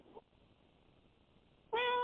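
Cat meowing, a short clear meow arriving near the end after a near-silent stretch, with a faint brief sound at the very start.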